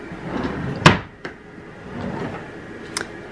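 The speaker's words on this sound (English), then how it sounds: "So here I also have a drawer." Dorm-room clothes drawer sliding open with a sharp wooden knock and short rumble near the start, a lighter bump after, then a faint click later in a quiet room.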